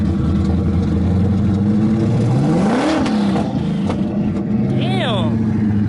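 A Camaro ZL1 engine with its exhaust removed revs up and falls back, loud and close, with a raw mechanical roar; a voice talks over it near the end.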